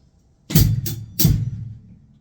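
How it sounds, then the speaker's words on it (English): A bass drum and hi-hat struck together in a percussion lesson, two or three close, loud hits about two-thirds of a second apart, with nothing else sounding. "we're just going to do the bass drum and the hi-hat together."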